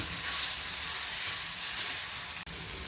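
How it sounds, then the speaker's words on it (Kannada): Masala with coriander frying for chicken curry, a steady broad sizzle and hiss from the pan throughout, with a brief click near the end. "ಈಗ ಇದಕ್ಕೆ ಕೊತ್ತಂಬರಿ ಹಾಕೋಣ. ಇದನ್ನು ಸ್ವಲ್ಪ ಫ್ರೈ ಮಾಡ್ಕೊಳ್ಳೋಣ."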